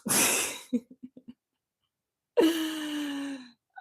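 A close, breathy sneeze bursts out, followed by a few soft clicks and then a longer voiced exhale, with no talking.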